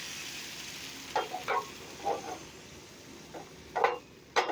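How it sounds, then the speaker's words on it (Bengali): Batter ladled into a hot pan for a flatbread and spread around, a soft continuous sizzle with a few brief scraping strokes and taps rising over it, no voices. "এরকম করে 1 হাতা মতন মিশ্রণ নিয়ে ছেড়ে দিচ্ছি। এবারে চারদিক থেকে এভাবে করে একটু ছড়িয়ে নিতে হবে।"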